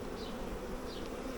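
Steady, close buzzing of a honey bee swarm gathering at a nuc entrance, countless wings humming together in one continuous drone, with a couple of single bees zipping past nearby.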